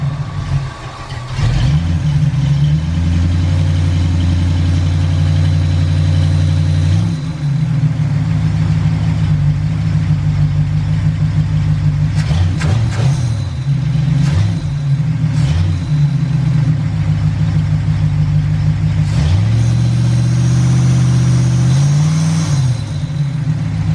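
A Ford Galaxie engine, recently cooled off after fuel problems, runs steadily at a loud close range, its deep rumble rising in several revs before settling back to idle.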